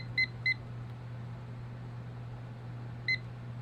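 A digital kitchen timer being set for steeping coffee gives two quick short beeps, then a single beep a few seconds later, over a quiet steady hum.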